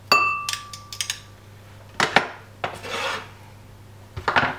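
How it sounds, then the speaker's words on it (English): Garlic being crushed in a kitchen while making a Sicilian salmoriglio fish sauce, heard as a series of rasping, scraping presses and rubs against a hard surface, with a faint hum underneath. "Now I crush the garlic here."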